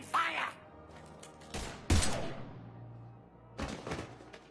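Gunfire in the Mass Effect video game comes in a few sharp, loud bursts with pauses between them, layered with other in-game noise.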